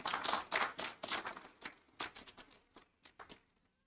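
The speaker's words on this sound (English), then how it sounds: "And a small applause for Mesfin." Small, sparse applause at an international program graduation ceremony, a handful of people clapping unevenly and fading out over a few seconds, fairly quiet.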